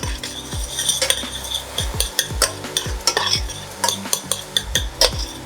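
Garlic being stirred in hot oil in a pan for a tomato sauce, with a steady sizzle under repeated scraping and clinking of a utensil against the pan, close and fairly loud.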